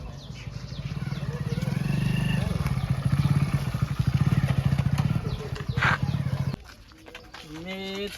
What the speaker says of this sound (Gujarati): પાછી બાઈક ચાલુ કરવા દે મને